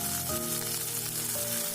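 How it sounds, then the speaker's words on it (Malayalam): Chopped ginger and garlic fry in hot oil in a pan for tomato rasam, giving a loud, steady crackling sizzle that holds close and unbroken, with no voices over it. "ചെറുതായിട്ട് അരിഞ്ഞു വെച്ചേക്കുന്ന ഇഞ്ചിയും വെളുത്തുള്ളിയും കൂടെ നമുക്കൊന്ന് മൂപ്പിച്ചെടുക്കാം."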